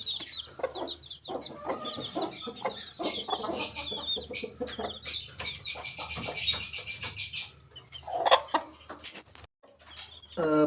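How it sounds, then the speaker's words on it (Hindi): Aseel chicken chicks chirp and cheep constantly, high peeps overlapping in quick bursts at close range, with someone talking quietly underneath. "ये असील के चूज़े हैं जो कि आप देख सकते हैं"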